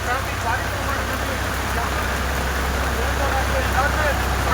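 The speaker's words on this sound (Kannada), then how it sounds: "ಹಾಗೆ ಸಾಕಷ್ಟು ಜೋರಾದ ಮಳೆ ಕೂಡ ಸುರಿತಾ ಇರುವಂಥದ್ದು" Heavy monsoon rain pours steadily over a highway in the Sakleshpur area of Hassan during a landslide-hit traffic jam, a dense continuous hiss with a low engine-like rumble beneath, constant and unbroken throughout.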